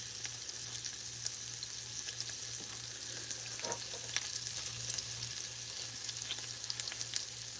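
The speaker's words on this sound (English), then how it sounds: "If you do have to end up frying something like this, make sure that you're using a good oil." Food sizzling and frying in good oil in a pan while cooking low-carb, a steady broadband crackle with scattered pops, close and continuous with no talking.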